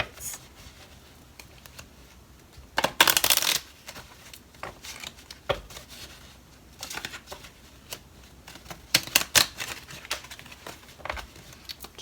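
Oracle cards being drawn and handled from a small deck: soft shuffling, flicking and sliding card sounds in irregular bursts, close and quiet, with brief louder riffles.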